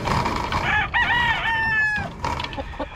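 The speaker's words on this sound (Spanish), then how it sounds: "Este es el gallito asil que voy a poner a su disposición" An asil rooster crows once nearby. The call is loud and clear, with a wavering, drawn-out cry over faint background noise.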